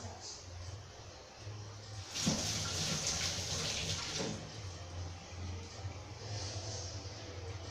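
Tap water runs during hand washing in a home kitchen, a soft steady trickle that swells into a louder splashing gush for about two seconds mid-clip before settling back to a low flow.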